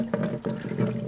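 Coolant gushes and gurgles out of a Porsche 996 Turbo radiator system as it is drained, a steady nearby splashing flow with a couple of surging pulses.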